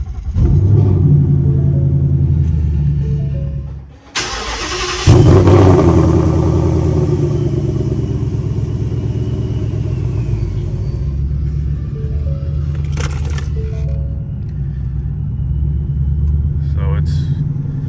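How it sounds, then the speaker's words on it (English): A supercharged Ford Mustang GT cold starts: the starter cranks briefly, then the engine catches with a loud burst and settles into a heavy, steady, rumbling high idle close by. "Let's do a cold start."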